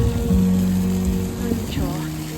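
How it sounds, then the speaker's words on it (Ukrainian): Light rain patters softly on a town square outdoors on a chilly evening, a faint steady drizzle beneath a low traffic rumble and passing hum. "Сьогодні, звісно, дощик покапує"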